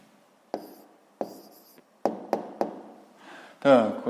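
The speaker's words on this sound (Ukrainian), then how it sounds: "Ну а зараз записуємо відповідь." A pen taps and scratches on paper in several short strokes as a math answer is written out by hand, with a voice speaking briefly at the end.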